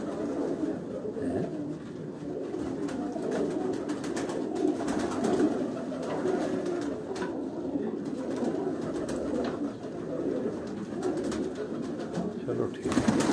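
Sialkot Chuha breed pigeons coo continuously in a loft, a soft rolling murmur of several birds with faint background voices and clatter.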